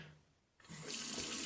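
Warm water runs from a sink tap, starting abruptly after a quiet moment and then flowing steadily and fairly loud, ready for rinsing a dirty watch and brush.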